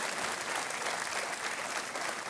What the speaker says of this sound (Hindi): keep the applause going ladies and gentleman